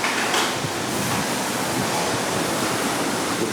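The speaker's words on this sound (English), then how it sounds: "the waves are crashing over the deck" Storm surf from Hurricane Ivan crashing over a house deck, a dense, continuous roar of rushing water and wind that stays loud and unbroken throughout, with no voices.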